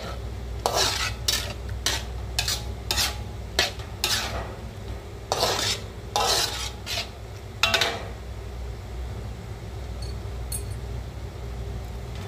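Sambal stirred in a pan after tempeh water is added, heard as scraping and clinking of a utensil against the pan in irregular bursts, with soft sizzling underneath and no talk.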